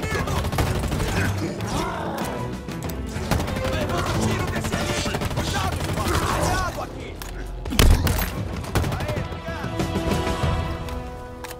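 Rapid bursts of gunfire and booms from Halo Infinite, dense and continuous, with voices talking over the shooting.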